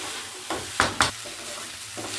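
Flattened rice (avalakki) frying in a pan, stirred with a spatula in a few brisk scraping strokes over a steady close sizzle.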